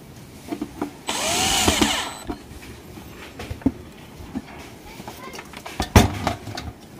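A power screwdriver drives screws into a rice cooker during repair, one short whirring burst of about a second standing out over quieter handling clatter and taps.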